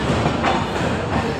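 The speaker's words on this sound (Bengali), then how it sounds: "আমাদের ট্রেনটি যাচ্ছে আমাদের গন্তব্যে" A passenger train running on the tracks between Dhaka and Bhanga, heard from onboard as a loud, continuous rumbling roar with faint rhythmic clatter of wheels over rail joints.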